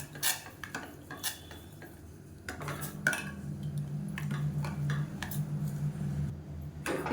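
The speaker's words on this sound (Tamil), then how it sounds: "கேஸ் ஆன் பண்ணிவிட்டு கைவிடாமல் கிளறிட்டே இருக்கணும்." A spoon scrapes and clinks steadily against a pan while a black urad dal mixture thickens on a gas stove, with irregular taps over a low background hum.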